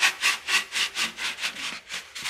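A sharpened 1 1/4 inch pipe end twisted into foam pipe insulation, making a series of about eight rhythmic, squeaky rubbing strokes close by, with no talking.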